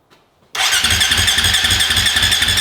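A KTM 525xc dirt bike engine, with choke pulled, fires abruptly after a short quiet moment and runs loud and close with a fast, pulsing idle.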